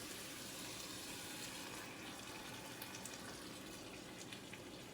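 Water runs steadily from a kitchen tap, a continuous faint gushing stream with no breaks and no talking.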